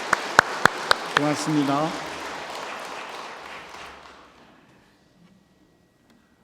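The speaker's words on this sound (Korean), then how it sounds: "성가대에게 감사와 찬양의 박수를 합니다" A church congregation applauds the choir after a lively hymn, with a few sharp claps first, then a burst of clapping that fades out over several seconds. Someone speaks briefly over it.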